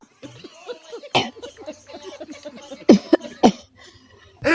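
Repeated loud coughing bursts out in several sharp, harsh fits from a nearby person, separated by quieter breathy, throaty sounds.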